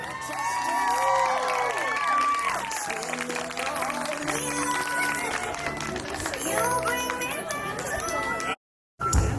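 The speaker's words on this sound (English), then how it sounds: "Big round of applause for Serena." Wedding guests applaud and cheer, with whoops and shouts mixed into sustained clapping while voices carry over it, before a brief dropout and a final burst.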